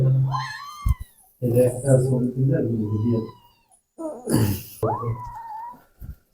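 Persian cats meow loudly and close by in Mirpur, with drawn-out rising and wailing calls at the start and again later, mixed with people talking.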